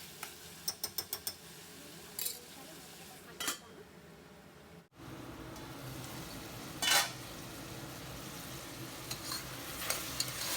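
Chicken frying in a pan with ginger garlic paste, with a few sharp clinks of a spoon against the pan and stirring scrapes over a steady low sizzle, a brief gap midway, then more stirring.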